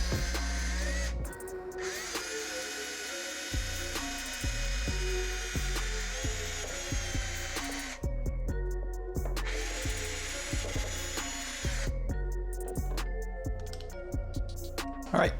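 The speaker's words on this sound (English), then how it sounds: "let's get the hole drilled." A power drill bores a hole in a homemade mousetrap Halloween costume, with repeated bursts of high whirring separated by short pauses and clicks, close and fairly loud, with no talking.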